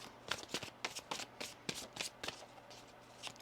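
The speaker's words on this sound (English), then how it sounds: "One more shuffle here." A deck of tarot cards riffled and shuffled several times in quick bursts, crisp papery flutters separated by brief pauses, close by with no talking.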